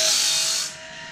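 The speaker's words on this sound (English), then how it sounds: "We don't want to grind it, we just want to smooth it off," A GrindLux 4000 grinder lightly smoothing and polishing the gullet of a bandsaw blade gives a steady, close hissing rasp that eases off and drops in level near the end, with no talk.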